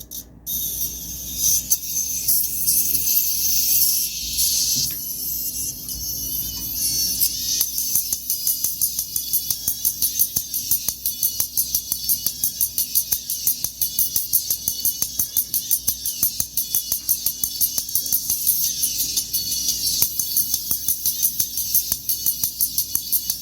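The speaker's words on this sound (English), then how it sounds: "So that's the sound of it." Thin, high-pitched audio plays from a small tweeter, bright and trebly with almost no low end, ticking along in a fast steady pattern.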